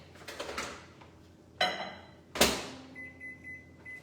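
A microwave oven heating a breakfast mug gives a couple of sharp door and button clicks and thumps, then settles into a low steady hum with a faint electronic tone, close by and fairly quiet.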